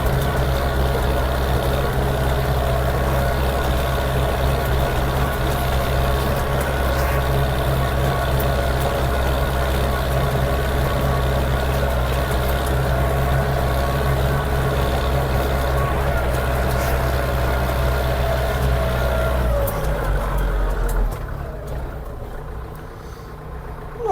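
A Scout 404 mini tractor ploughing a garden plot at speed 10 holds a loud, steady low engine drone for about twenty seconds before the rumble drops away near the end.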